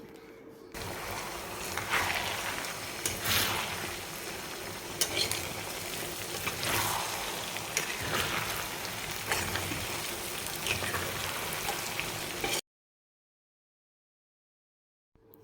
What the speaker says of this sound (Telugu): ఈ చికెన్ని ఈ అల్లం వెల్లుల్లి పేస్ట్ని రెండింటినీ కలిపి చక్కగా వేయించుకోవాలి